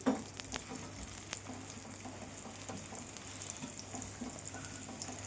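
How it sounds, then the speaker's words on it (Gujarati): Aloo paratha shallow frying in oil on a pan, a faint, even sizzle with a soft low hum underneath and a small knock at the start. "હવે તેમાં પણ આપણે તેલ નાખીને તેને તળી લઈશું, શેલો ફ્રાય કરી લઈશું."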